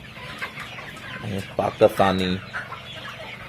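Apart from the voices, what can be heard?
poultry chickens clucking on a farm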